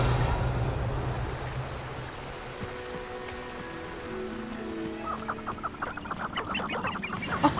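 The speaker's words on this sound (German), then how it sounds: "das waren die Hühner" Chickens cluck in the video game Hogwarts Legacy, a run of soft, quick clucks and squawks rising in the second half over quiet game ambience, ending with a louder burst.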